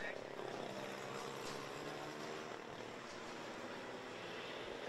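Micro-class racing karts accelerate out of a corner during a 2019 race final at the Genk circuit, making a dense, continuous high buzz of several engines at once, loud and steady, with a commentator talking over it.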